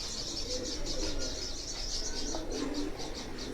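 Pigeons in a loft give faint, repeated soft coos and chirps under a steady background hiss, with a brief flutter of wings.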